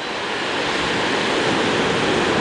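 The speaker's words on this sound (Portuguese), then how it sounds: "aqui realmente tem muita onda, só que a corrente forte" Ocean waves break steadily at Praia do Lé beach at high tide with a strong current, making a continuous broadband roar of surf that stays loud and close throughout.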